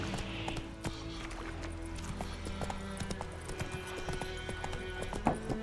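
Roach the horse in The Witcher 3 clip-clops along with steady rhythmic hoof falls over a faint ambient game background, moderately close and without voices.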